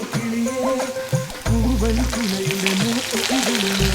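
Finely chopped garlic fries in coconut oil on a tawa with a steady, crackling sizzle, while a tuneful melody plays underneath throughout.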